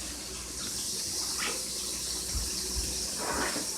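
Water drains and trickles steadily off cooked cabbage, a continuous close splashing flow with a few small thuds from the pot.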